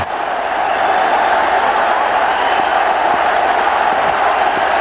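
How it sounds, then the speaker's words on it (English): A large stadium crowd at a one-day international cricket match in Nagpur cheers a batting innings, a dense, steady roar of voices sustained throughout. "The crowd appreciated here."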